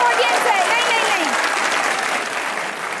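A studio audience at a comedy show claps in loud, sustained applause for about three seconds, dense and even before easing slightly toward the end.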